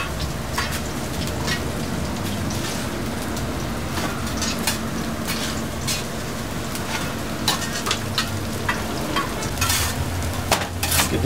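Potato pancakes fry in a pan at a German street snack stand, a loud steady sizzle and crackle running throughout with scattered sharper pops and scraping.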